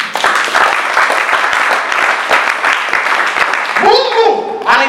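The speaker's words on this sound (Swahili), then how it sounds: "Pige Yesu makofi." Church congregation clapping and applauding Jesus during a sermon, a steady dense patter of many hands over nearly five seconds, with a shout or cheer rising near the end.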